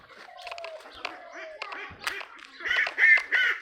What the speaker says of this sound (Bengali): এই যে আমাদের হাঁস